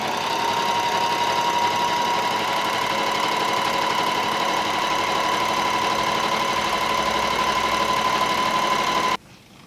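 Electric sewing machine stitching the bottom strap onto a fabric face mask, a steady close mechanical whir with a constant tone running unbroken for about nine seconds before stopping abruptly.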